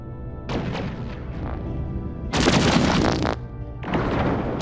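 Spaceship guns fire in the space strategy game Endless Space 2, loud bursts of booming, crackling shots in several volleys with short pauses between, no talking.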